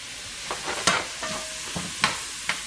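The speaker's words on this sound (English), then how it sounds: "let that saute" Ground meat and spices sautéing in a pan for Frito pie, seasoned with chili powder, Italian seasoning, cayenne and garlic salt. A soft, steady sizzle runs throughout, with a few sharp scraping stirs of a utensil against the pan.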